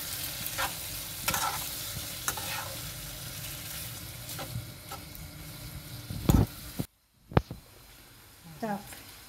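Shrimp frying in a pan, a close, steady sizzle broken by sharp clicks and scrapes of stirring, with a brief dropout near the end and a voice talking intermittently.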